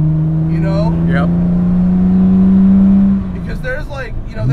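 A modified 1960 Aston Martin DB4 Series II engine drones loudly with a steady hum, then trails away as it passes, while people talk over it.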